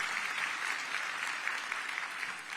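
Brief burst of steady applause from an audience at a county State of the County address, dense clapping at a constant level.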